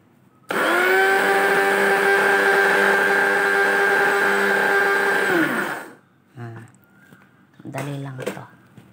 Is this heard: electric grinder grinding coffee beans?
yes